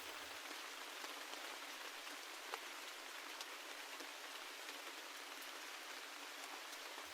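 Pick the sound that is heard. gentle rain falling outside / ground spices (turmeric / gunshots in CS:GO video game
gentle rain falling outside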